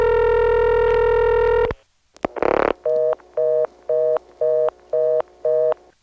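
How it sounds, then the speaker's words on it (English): A Carolina Telephone step-by-step exchange from the 1970s in Kenly or Clayton, North Carolina: a loud steady tone cuts off, a brief burst of switching clatter follows, then a repeated electronic ESS ring sounds in six even pulses, with no voices. "Yikes, another Carolina telephone step with ESS ring."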